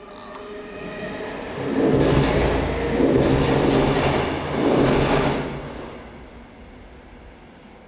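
A train passes nearby as a rumbling, swelling roar that builds, peaks for a few seconds with rhythmic wheel clatter, then fades away, with no talking.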